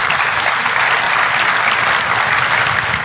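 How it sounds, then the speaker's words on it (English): Audience applause fills a public talk by the U.S. Interior Secretary, a dense, steady wash of clapping held at the same loud level for the whole stretch with no voice over it. "you can clap for that."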